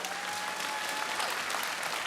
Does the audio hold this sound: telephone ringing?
no